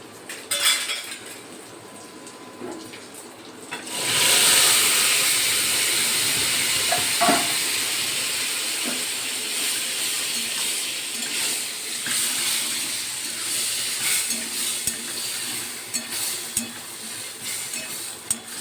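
Lentils and pumpkin greens, tempered with black cumin and a dried chilli, cook in a pan with a loud sizzling hiss as they go in, then a steady simmering fry with occasional utensil clinks and stirring scrapes.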